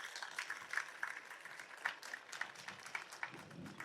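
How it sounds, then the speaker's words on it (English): Steady, dense crowd applause from students at a university excellence day event honoring the placement dean, continuous and fairly even at a moderate distance, with no talking over it. "I request all the students to give a very big round of applause to our placement dean, Dr. John Bruce."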